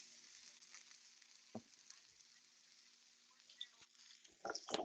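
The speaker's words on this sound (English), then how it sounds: "I can hear the fish sizzling in the pan" Soft, steady sizzling of fish frying in a pan, quiet and close, with occasional ticks and clinks of utensils, growing busier toward the end.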